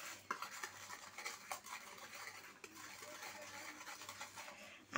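Cumin seeds being rubbed and crushed by hand in a small bowl while cooking a bata fish dish; soft, faint gritty scratching with light clicks, close and quiet, no talking.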